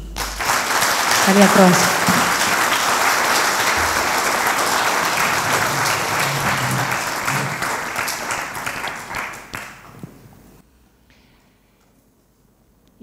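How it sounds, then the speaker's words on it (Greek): Audience applause at a themed concert inside a church, a sustained roar of clapping from a large crowd lasting about ten seconds before dying away, with a voice speaking briefly over it early on. "Το πιο δυνατό σας χειροκρότημα, όχι για μας, για εκείνους."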